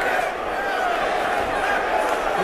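A dense, steady roar from the crowd at a 305 Fights event fills the arena around a 145-pound bout, loud and continuous, with a commentator's voice running over it.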